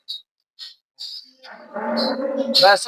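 Cattle on a Bangladeshi dairy farm moo in several calls: short faint lows at first, then a long loud close bellow with strong harmonics building to the end.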